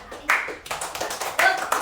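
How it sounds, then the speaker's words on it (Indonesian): A short burst of hand clapping from a small group of children in an elementary school class, quick and uneven, mixed with voices. "Tepuk tangan, beri tangan."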